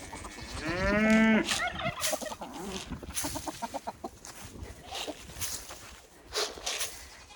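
A farm turkey gobbles loudly and close, a rapid rattling call, amid other farmyard livestock with further clucks and animal calls scattered through the rest of the scene.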